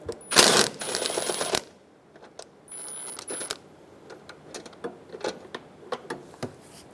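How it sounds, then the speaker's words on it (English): Ratcheting and clicking of a 10mm socket backing out washer reservoir screws on a 2007-2012 Nissan Altima, with a loud burst of rapid ratchet clicks at the start, then scattered sharp metallic ticks and taps, close by. "Using a 10mm socket, we're going to take out the 3 screws for the washer reservoir."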